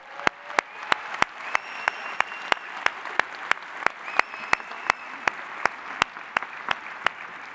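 Steady audience applause at the 43North 2021 startup competition finals, a dense even wash of clapping with sharp periodic claps standing out, no voices, lasting throughout.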